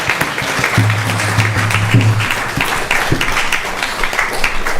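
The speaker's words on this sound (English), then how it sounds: "Please give him a big round of applause." Audience applause at a Sunday feast program celebrating a father's 100th birthday: broad, steady clapping from a crowd, fairly close and sustained, with a low tonal hum running underneath for part of the time.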